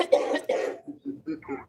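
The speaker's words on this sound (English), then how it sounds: "See, we're coughing from weed." People cough from smoking weed: two harsh, close coughs, then a run of shorter, softer hacks and throat-clearing bursts that trail off quietly.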